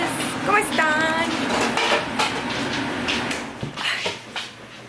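Dishes, pots and pans being washed by hand, with clinks and clatters of dishware and cutlery under a running background, while someone talks over the sounds.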